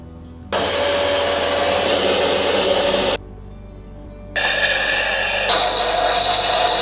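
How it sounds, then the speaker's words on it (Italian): A household vacuum cleaner cleans out motorcycle intake ducts. It runs as a loud, steady whooshing roar, cuts to a quieter hum, then returns louder with a harsher, higher-pitched suction tone. "prendiamo l'aspirapolvere e gli diamo una bella aspirata a tutti e due"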